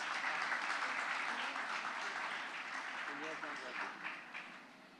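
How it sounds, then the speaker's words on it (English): Audience applause at a live Southern Rising Conclave 2023 event, a dense, steady wash of clapping from a large crowd that holds for several seconds before tapering slightly, with faint voices mixed underneath. "Can we have a round of applause for them?"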